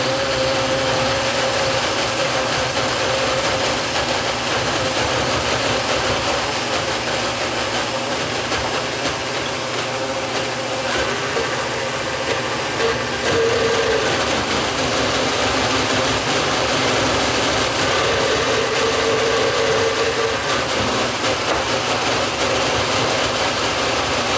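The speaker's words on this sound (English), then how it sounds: "I'm just going to put it on the blender here." A kitchen blender runs continuously at high speed blending a thick chocolate banana mixture, a loud, steady mechanical whir that barely changes over the whole stretch.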